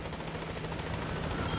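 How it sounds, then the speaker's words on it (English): Support helicopter arriving at a landing zone in Metal Gear Solid 5, a loud, steady rotor chop with engine roar filling the whole moment. "Support helicopter has arrived."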